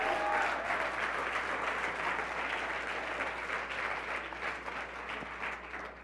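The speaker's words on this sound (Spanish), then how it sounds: "dar un aplauso a ese Dios todopoderoso en esta hora" A church congregation applauds during an evangelistic service, a fairly faint, sustained wash of many hands clapping that slowly tapers off, heard from a distance.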